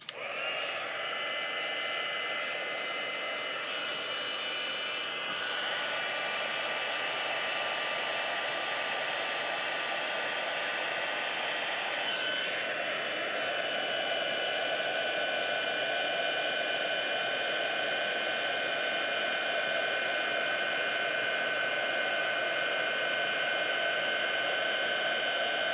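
A heat tool for embossing powder on a handmade card blows continuously like a hair dryer, a steady loud whoosh with slight shifts in pitch and no talking.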